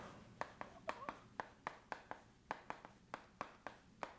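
A pen writes a Chinese character by hand, giving a steady run of sharp taps and short scratchy strokes, close and clear with no talking.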